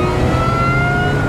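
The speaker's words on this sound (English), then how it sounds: "one of the best automotive sounds you can get is a car with a supercharger" A supercharged Ariel Nomad engine revs hard close up, its supercharger mounted just behind the driver's head with no sound deadening, giving a loud, sustained mechanical whine and roar for a moment.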